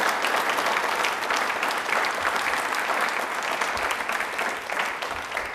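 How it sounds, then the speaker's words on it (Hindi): A hall audience applauding loudly at a Dr. Bhimrao Ambedkar Jayanti quiz programme, dense continuous clapping from many hands throughout, close and sustained without pause. "बाबा साहेब के लिए एक बार तालियां जोरदार बजनी चाहिए"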